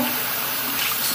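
Running tap water rinses something under a faucet at a sink in a steady, close, broadband splash, with no talking.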